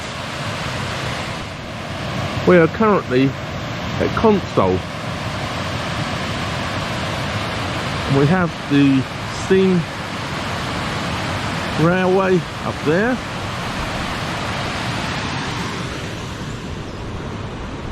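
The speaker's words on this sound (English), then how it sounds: "At the moment we're looking over at the weir on the River Churnet." A steady broadband rush of water pouring over a weir on the River Churnet runs throughout, with someone talking in short bursts over it.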